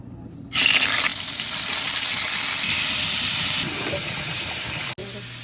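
Marinated pork chop frying in a pan, a steady loud sizzle and crackle that bursts in suddenly and holds evenly, with a brief break near the end, close up and without speech.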